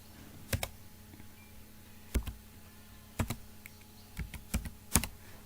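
Someone types a date of birth on a computer keyboard: sparse, sharp key clicks in small clusters with pauses between, close and fairly quiet over a faint background hum.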